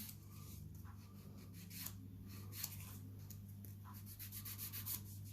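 Soft rubbing strokes of 240-grit sandpaper worked by hand over a small area repeat steadily and close up, faint over a low steady hum.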